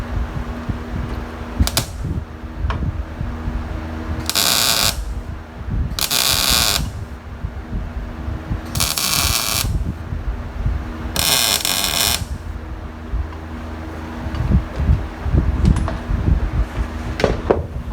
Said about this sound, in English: we're ready to tack weld that in too